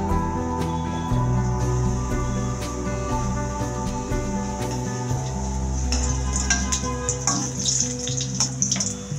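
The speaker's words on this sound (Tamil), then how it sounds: "இப்போ எண்ணெய் காஞ்சிருச்சு. நம்ம ஒவ்வொரு குலோப் ஜாமுன் பாலாக போட்டு" Gulab jamun balls frying in hot oil in a kadai give a continuous bubbling sizzle with a watery edge, growing brighter and busier toward the end, with no voices.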